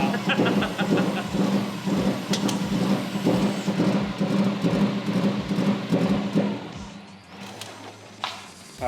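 A Subaru WRX engine, faulty and shooting flames from its inlet manifold, runs loud and close with an uneven, lumpy pulsing beat that eases slightly near the end.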